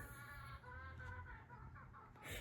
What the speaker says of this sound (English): Cute live chickens.